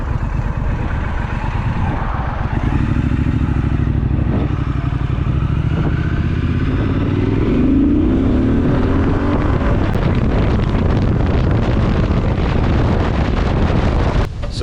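A Triumph Street Scrambler 900 motorcycle accelerates hard from a rolling start toward 60, its engine rising through gears beneath heavy, constant wind rush on the microphone.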